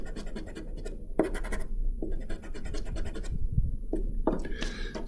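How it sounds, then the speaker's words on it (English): A gritty eraser end rubbed hard on drawing paper, giving a series of short, rough scratching bursts in quick succession, close up with a faint hum beneath. "I can also use this gritty end, and you can see we're getting into the pure white paper again."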